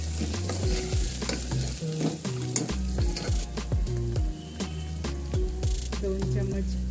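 Ground coriander, cumin and garam masala being stirred and fried in a pan for egg pulao, a steady close sizzle with repeated scraping stirs throughout.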